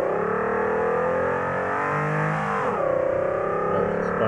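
A Hyundai Sonata car engine accelerating, a loud, continuous rising drone with a brief dip near the middle, heard from inside or close by with no talking.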